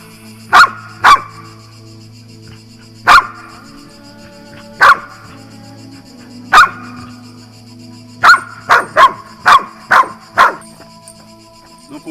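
A dog barks in sharp bursts at a plush toy dog during an aggression test, with two barks early, one near the middle, and a rapid cluster of five or six late, all loud and close over a steady low background hum.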